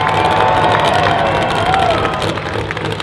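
Spectators at a drag strip event featuring a wheelstanding firetruck cheer and shout loudly and steadily, a dense crowd roar with scattered whistles lasting throughout.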